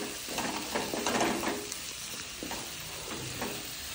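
Onion and coconut sautéing in a pan for spicy kozhukattai, a soft sizzle broken by scraping spatula strokes that come in short bursts, fairly quiet and close with no talking.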